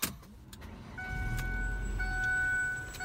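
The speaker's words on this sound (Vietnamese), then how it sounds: "em sẽ lấy máy lên cho anh chị và các bạn nghe tiếng động cơ" A 2003 Ford Mondeo with a 2.0 engine cranks briefly and starts, then settles into a smooth, quiet idle with a thin electrical whine over the low rumble; no one speaks.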